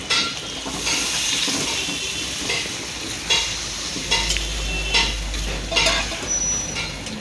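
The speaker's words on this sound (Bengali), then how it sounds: "এবার আমি এর মধ্যে জল দিয়ে দেবো" Water splashes into spiced potatoes frying in a small wok, setting off loud bursts of hissing sizzle over a steady frying crackle, with stirring scrapes recurring through the seven seconds.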